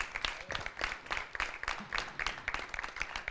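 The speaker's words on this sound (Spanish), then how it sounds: "dar un aplauso a Alba Fresno y a su viola" Scattered applause from a small audience at a round-table event on the performing arts, honouring a viola player; individual claps stand out in an uneven rhythm, fairly quiet and slightly distant.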